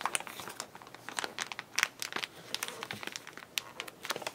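A plastic journal cover folded by hand, giving a steady run of close crinkling and crackling with sharper crunches scattered throughout, no voices.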